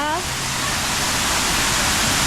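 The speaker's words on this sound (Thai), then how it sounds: "ส่วนมากก็จะเป็นน้ำตกนะคะ แล้วก็ จริงๆเขาทำเส้นทางน้ำเนี่ย ล้อมรอบตัวร้านเลย" Water pours steadily down an artificial waterfall at a forest cafe in Pattaya, where water channels run around the building. It makes a loud, unbroken rushing hiss close by, and a voice is briefly heard at the start.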